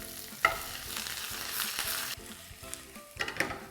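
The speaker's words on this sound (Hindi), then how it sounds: "देखिए, दाल भुन गई तो इसमें डालेंगे हम प्याज" Lentils with green chilli, ginger and curry leaves being stirred and roasted in a hot pan, with a steady close sizzle and a few sharp scrapes of the spoon against the pan.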